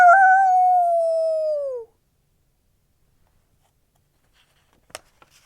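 A voice imitates a dog howling loudly, one long drawn-out howl that slides down in pitch and stops, followed by near silence with a few faint clicks.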